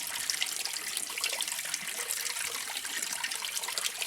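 Cold tap water runs steadily while Royal Marine issue Arctic wool socks are washed, a continuous close splashing rush with no voices.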